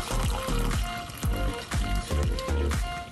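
Hot water dripping and trickling from a Bratz doll's hair after a boil wash, a steady run of small liquid patters and pours, close and fairly loud throughout with no talking.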